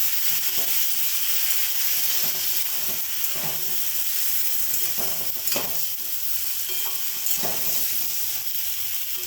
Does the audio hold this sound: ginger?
yes